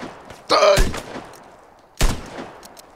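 Two loud shotgun blasts in the video game Vigor, the first near 0.5 s with a drawn-out ringing tail, the second a sharper single report about 1.5 s later, with no speech over them.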